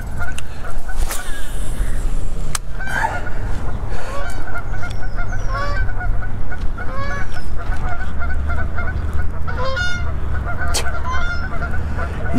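A flock of geese honks and squabbles steadily at a lakeside fishing spot, repeated calls overlapping near and far over constant low outdoor rumble.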